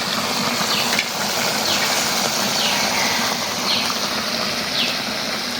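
Bain eel fish curry with tomato and green chilli paste fries in oil with a loud, steady sizzle, while a spatula scrapes the pan now and then.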